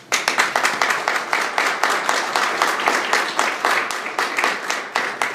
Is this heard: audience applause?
yes